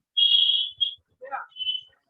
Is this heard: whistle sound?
yes